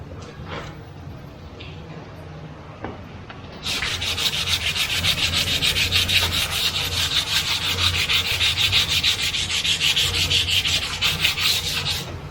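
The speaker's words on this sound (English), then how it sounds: "And that'll just sand right off." Steady, close sanding with an aggressive grit scrubs continuously at a surface for several seconds after a few quiet knocks and scrapes, a loud, even rasping hiss with no talk over it.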